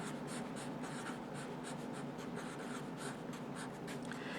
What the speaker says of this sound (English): I'm going to write it out twice, and then I'll multiply.